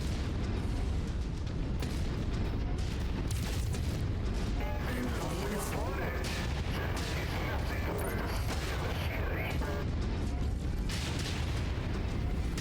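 Weapons fire and heavy impacts in MechWarrior 5: Mercenaries, in the Dragon's Gambit DLC, including a Longbow mech firing: a constant rumbling barrage of booms, blasts and mechanical clanks, with voices talking over it.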